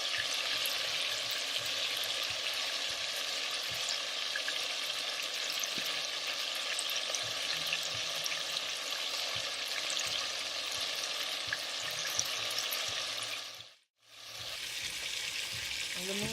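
Pieces of oxtail frying in a pan give off a steady, dense sizzle that carries on for a long stretch with one brief dip near the end, at a moderate level and with no voices.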